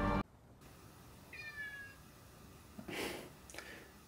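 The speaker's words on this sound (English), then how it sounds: "If that cat managed to find its way back to that house." A cat in a movie scene gives a single clear meow after a brief loud burst, followed by a faint strained second cry, against quiet background hiss.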